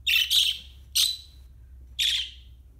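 Pet bird in a cage giving four sharp, high chirps and squawks in quick bursts, loud and close, over a low steady room hum.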